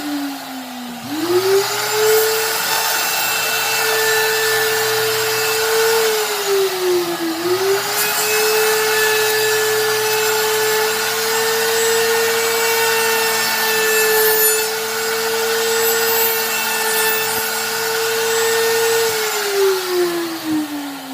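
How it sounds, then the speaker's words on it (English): A router spins steadily on a router table, a loud, sustained high whine with a dip in pitch near the start and again partway through, running alone without talk for about twenty seconds. "Turn on your router."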